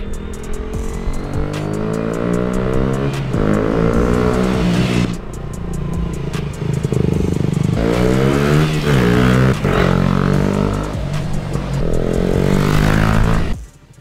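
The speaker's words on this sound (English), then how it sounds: "let's see what Rory makes of his freshly recommissioned starter bike" A freshly recommissioned starter motorbike after a crash repair, its small engine revving up repeatedly in close, loud bursts with rising pitch, dropping between throttle blips and cutting off at the end.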